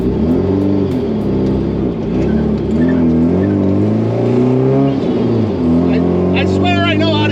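A manual-transmission drift car rolls down a neighborhood road on a warm day, its loud engine droning and rising and falling in pitch through revs, heard close up with a person talking over it.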